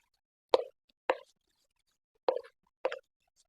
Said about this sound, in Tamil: இட்லி மாவு மூணையும் நல்லா மிக்ஸ் பண்ணி எடுத்துக்கோங்க.